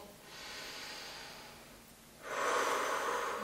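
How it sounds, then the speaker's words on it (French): Deep breathing during a seniors' gentle exercise session: a long, soft inhale through the nose, then a louder, fuller exhale through the mouth, close and unaccompanied. "On va faire tout d'abord une bonne respiration."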